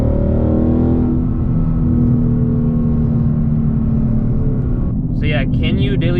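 A Ford Mustang GT in track mode accelerates hard through the gears, its engine a loud sustained drone with a rising pitch, then a shift near the end; a person talks over it.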